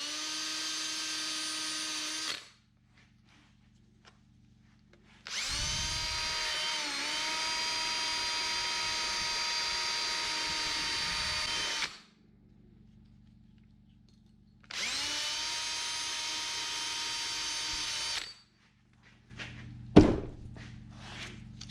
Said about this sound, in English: brush and a drill.